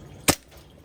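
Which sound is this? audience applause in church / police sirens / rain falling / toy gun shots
toy gun shots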